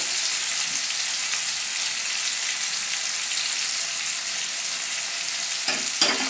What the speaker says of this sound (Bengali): একটু এটা ভাজা হয়ে যাক